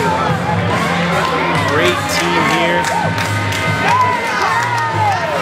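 A wrestling crowd cheers and chants loudly and steadily at an intergender tag match, rhythmic shouted chants and whoops filling the arena while a commentator talks over them.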